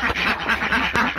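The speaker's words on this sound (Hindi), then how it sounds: "बतखें जो है वो काफ़ी शोर शराबा कर रही हैं।" Several ducks quack loudly up close, a rapid overlapping series of harsh, nasal calls with no pause.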